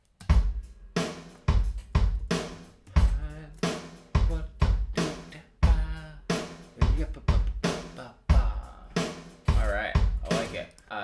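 Layered drum groove built from a punchy bass drum and snare, steady loud hits repeating in a tight pop rhythm for about eleven seconds, no voices over it.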